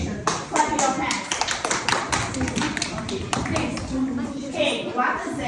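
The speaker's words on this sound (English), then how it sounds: "Who is finished? Clap your hands." Children in a fourth-grade English class clap their hands in quick, scattered bursts of sharp claps, with a teacher and kids talking over the clapping in a busy classroom.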